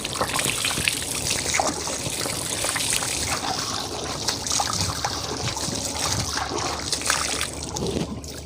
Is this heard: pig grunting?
no